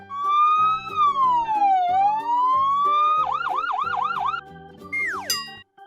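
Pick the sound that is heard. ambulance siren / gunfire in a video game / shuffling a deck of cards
ambulance siren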